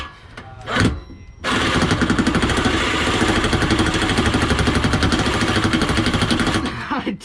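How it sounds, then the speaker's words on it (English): A Ryobi power tool cutting, likely on an LS chop job, starts after a brief clatter and runs as a loud, rapid, hammering mechanical buzz for about six seconds before stopping, with no speech. "I don't think the Ryobi is gonna cut it here, guys"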